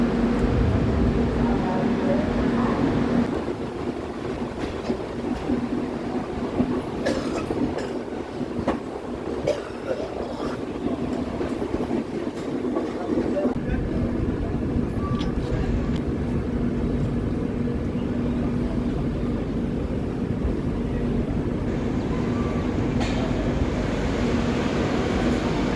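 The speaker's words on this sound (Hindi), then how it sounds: "और फाइनली हमारी ये ट्रेन यहाँ से 5 मिनट के ठहराव से यहाँ से डिपार्ट कर चुकी है।" The Patna Ahmedabad Express departing Ujjain station in Madhya Pradesh, heard from aboard: a loud, steady rumble of moving rail cars with faint rhythmic wheel clatter and occasional squeals, continuous throughout.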